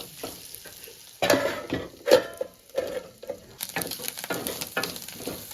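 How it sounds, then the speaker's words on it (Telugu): Ginger-garlic paste is stirred in a frying pan while cooking a bamboo shoot curry, with a sizzling hiss under irregular spoon scrapes and a few sharper knocks against the pan, close and moderately loud, with no voices. "అల్లం వెల్లుల్లి వేసుకున్నాం కాబట్టి బాగా కలుపుకుందాం"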